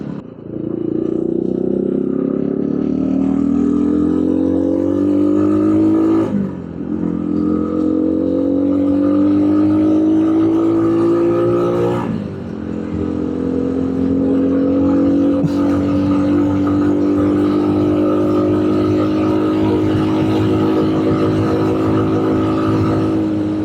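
A cheap street-legal 250cc dirt bike engine drones loud and close while riding, pitch climbing steadily through each gear before dropping at two clear shifts, then holding a steady high rev.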